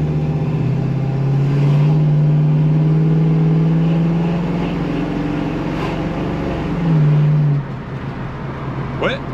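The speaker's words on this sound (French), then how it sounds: "Elle est sympa à conduire cette Mustang" A 1966 Ford Mustang with a 289 V8 drives along, its engine droning steadily from inside the car and rising in pitch as it accelerates, then dropping off as the revs fall near the end.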